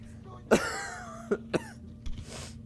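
Several short coughs from a sick person, one strong burst followed by two quicker, fainter ones and a softer throat sound, heard close against a low steady background hum.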